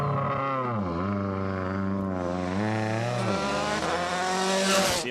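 Rally car at the Rally of Turkey, engine revving hard while its tyres are warmed, pitch sweeping up and down in repeated surges before climbing steadily, loud and close.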